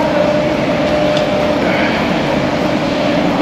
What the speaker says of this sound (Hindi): ये लोकल ट्रेन है जो आप देख रहे हैं,